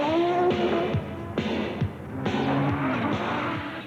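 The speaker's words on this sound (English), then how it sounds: "This is an Audi Quattro at full song" An Audi Quattro race car at full power, engine revving hard in rising and falling sweeps with sharp gear changes, loud and close throughout.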